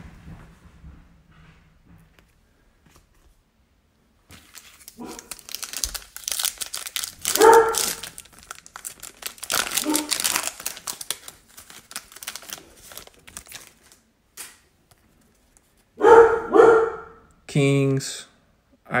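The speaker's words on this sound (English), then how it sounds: "My dog is going crazy." A dog barks in short bursts somewhere in a room while a person sorts through hockey trading cards, its loud yelps breaking through intermittent talk and the crinkle of card packaging.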